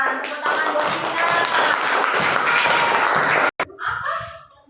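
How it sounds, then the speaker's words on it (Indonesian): Audience applause and clapping, loud and dense for about three and a half seconds, then cutting off abruptly, followed by brief voices and chatter. "Tepuk tangan buat Sina."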